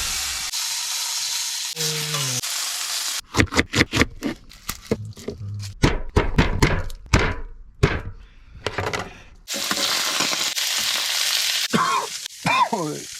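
Meat sizzles loudly in a small frying pan while car camping, with intermittent scraping and clattering bursts as it is stirred, then a steady crackling fry.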